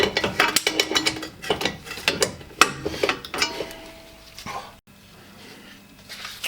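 A torque wrench fitted with an extension ratchets up close beside the brake disc of a Toyota GT86 TRD 14R, giving a run of rapid uneven clicks that stop partway through, leaving a low steady hum.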